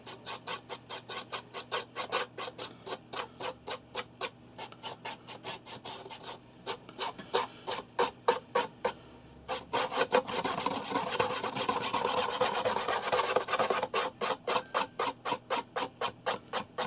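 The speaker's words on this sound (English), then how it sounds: "Maybe this is where I'll now use the stiffer brush." A stiff brush scrubs rhythmically over weathered OO gauge model bricks in quick, regular back-and-forth strokes, close and crisp, with a stretch of denser continuous rubbing in the middle before the steady strokes return.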